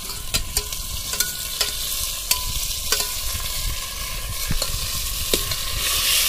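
Country chicken with ginger, garlic and turmeric is stirred in oil in a pot, with loud repeated spoon scrapes over a constant frying sizzle, close up and without talk.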